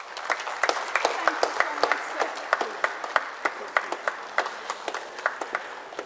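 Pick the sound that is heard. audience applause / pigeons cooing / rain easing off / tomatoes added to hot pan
audience applause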